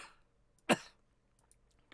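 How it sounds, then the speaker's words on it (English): A single sharp, loud cough bursts out once in an otherwise quiet room, followed by a few faint small clicks and rustles. "Overcome with coughing."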